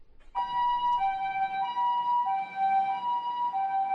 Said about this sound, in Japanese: 三重県桑名市の病院に救急車が到着。